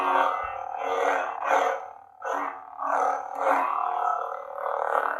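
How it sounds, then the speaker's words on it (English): An 89 Sabers Mace Windu replica lightsaber built on a Goth Master chassis with a Proffie sound board, switched on and held close. It gives a loud, continuous electric buzzing hum that swells and dips in repeated surges, with no talking. "if we turn this on, the saber sounds really good"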